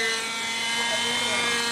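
Helicopter during a first flight in a flight class, a steady, loud, continuous rotor and engine drone filling the whole moment, with no break.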